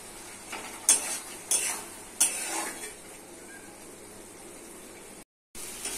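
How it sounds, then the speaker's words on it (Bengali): Fried potatoes stirred into a cooked-down spice masala for a coconut lentil curry, giving a steady soft sizzle broken by three sharp scrapes of the spoon against the pan. A brief silent gap falls near the end. "মশলা কষা হয়ে গেছে দিয়ে দিচ্ছি ভেজে রাখা আলু"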